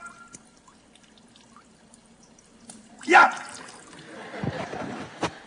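Water splashes and pours during a physics lecture demonstration: a sudden gush midway, then a trickling, dribbling stream. A man's exclamation and light talk sit over a quiet room tone.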